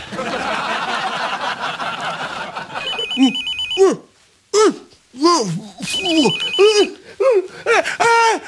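A telephone bell rings in two distinct bursts, loud and close, between stretches of comedic dialogue and laughter from several people in a Catalan political sketch.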